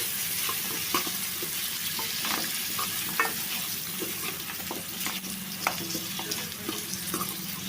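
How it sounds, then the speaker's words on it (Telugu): Dried fish pieces fry in hot oil with a steady, close sizzle, broken by occasional spatula scrapes and stirring clicks as they are mixed in the pan. "ఒక రెండు నిమిషాలు ఈ ఆయిల్లో ఈ ఒట్టి చేప ముక్కలు ఫ్రై అయిపోవాలి"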